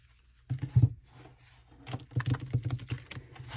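Crisp papery riffling of tarot cards with rounded edges being shuffled nearby, a short burst followed by a longer run of quick flicking patters.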